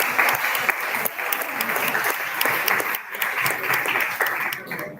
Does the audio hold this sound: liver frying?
no